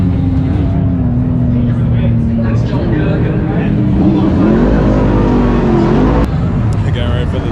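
A 670-horsepower drift car engine revs loudly at a drift event, a steady roaring drone with a rising pitch sweep near the end, close and overwhelming throughout.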